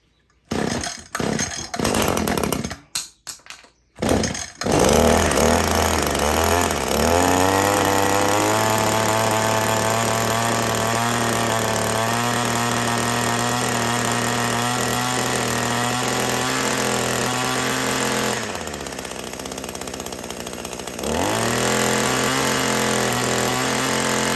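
Echo PPF-210 pole saw fitted with a new coil: a few short pulls and sputters, then the two-stroke engine catches and runs loud and steady, dipping briefly near the end before revving back up. No speech.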